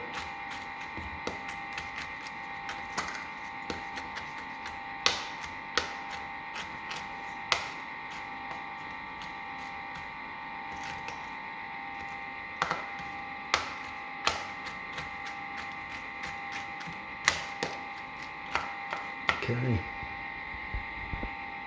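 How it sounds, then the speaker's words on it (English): A knife roughly chopping walnuts on a board gives scattered sharp taps at an uneven rhythm over a steady electrical hum, moderately close and fairly quiet. "Just chop them up roughly."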